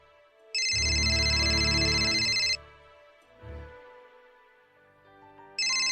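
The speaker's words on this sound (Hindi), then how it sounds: "रोमा, आरती का फोन है, मैं बात कर लेती हूँ।" A mobile phone ringtone plays loudly for about two seconds, pauses, then starts again, an electronic melodic tone up close.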